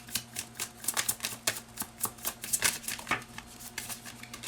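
Tarot cards are shuffled by hand in a rapid, rustling flutter of riffles and soft taps, close and quiet, with a faint steady hum underneath.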